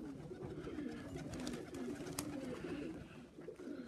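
Pigeons of the blue variety coo softly at their loft in a steady, low murmuring layer, several birds overlapping continuously with faint rustling and background noise throughout.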